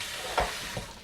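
Steak meat for a morning steak hash dropping into a hot pan, giving a brief burst of sizzle followed by a second smaller thump and a steady, moderate frying hiss.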